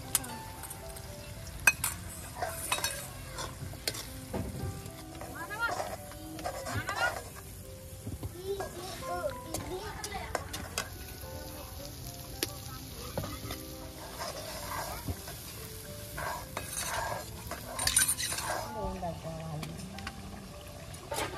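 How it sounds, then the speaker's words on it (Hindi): Onion masala for jackfruit curry frying in oil in a home kitchen, with a spoon stirring and clinking against the pan over a steady soft sizzle, while someone talks throughout. "अभी प्याज भुन गई बढ़िया तरह से, देखो कितना बढ़िया मसाला बना है।"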